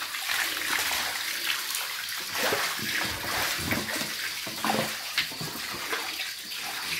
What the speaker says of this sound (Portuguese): Piscina que enche assim, vocês nunca viram